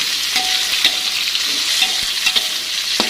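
Purple eggplant tossed into fried spice paste in a pan, crackling with a loud, steady sizzle while a spoon scrapes and clinks a few times, no voices.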